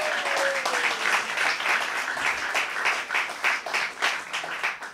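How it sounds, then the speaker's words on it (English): An audience at a jazz and contemporary music school event claps steadily, a dense even patter of many hands with no talk over it. "You can feel free to give her a round of applause"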